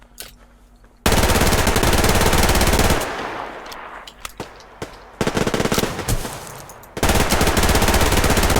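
Rapid machine gun fire in the shooter game Survarium, loud sustained bursts with brief pauses between them, heard alone without talk.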